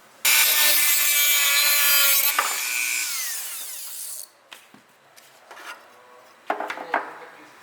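A power tool cuts a carbon fiber interior panel for a Mazda FD RX-7, a loud harsh whine for several seconds that winds down, then a few separate knocks and handling sounds.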